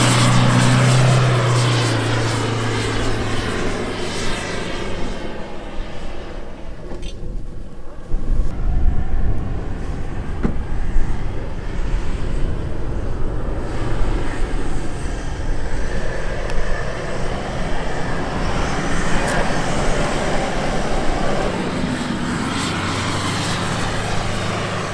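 An SUV engine roars steadily as it drives offroad on sand dunes, loud and close, with a rising and falling drone that persists for the whole stretch.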